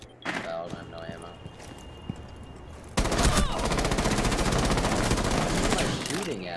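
Rapid automatic gunfire in a first-person shooter video game, starting at mid-clip and rattling on continuously, loud and close, after scattered shots and game effects, with players talking over it.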